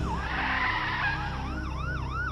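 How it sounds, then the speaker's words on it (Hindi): A police car siren wails up and down, its pitch rising and falling repeatedly, loud and close over a low rumbling engine. "पीछे से पुलिस की गाड़ी सायरन बजाते हुए आती है"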